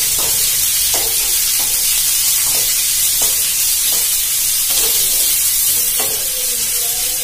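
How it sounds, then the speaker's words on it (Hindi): Chopped onions sizzle loudly in a hot oiled pan for a Rajasthani chutney. The hiss is steady and close, and a spoon stirs through it with regular scraping strokes. "अभी डाल देंगे इसमें प्याज कटे हुए"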